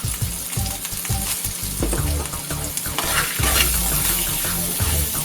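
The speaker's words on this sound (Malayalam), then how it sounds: "ഇനി ഇതൊന്ന് വഴറ്റിയെടുക്കാം" Capsicum seasoned with black pepper and salt sizzles loudly as it is sautéed in a pan for Kerala-style chilli beef, a dense continuous frying hiss broken by repeated scraping stirs close by.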